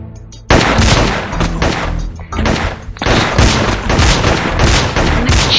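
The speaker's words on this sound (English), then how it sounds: "My chain gun is what won them the match." A chain gun fires in the video game Gun Mayhem, heard as loud, dense bursts of rapid game gunfire with booming impacts, starting abruptly after a short quiet lead-in and pulsing through to the end.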